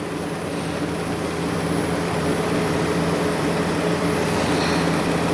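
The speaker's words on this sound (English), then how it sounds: "the compressor is slowing down because I took my fingers off of that temperature sensor" An air conditioner compressor runs during a spring startup, making a constant, loud, even droning hum with steady tonal whine and no breaks.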